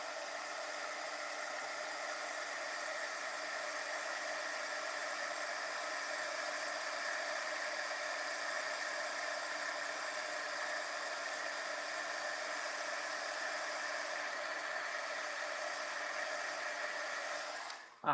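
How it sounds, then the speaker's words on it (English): A heat gun melts a pink and purple glittery embossing powder in a steady, continuous blowing whoosh that runs close and unbroken for about eighteen seconds, then cuts off abruptly at the end, with no voices over it. "This is the embossing powder of the month called Blowout. It's a fun pink and purple glittery mix. Heat gun off on the side a little bit."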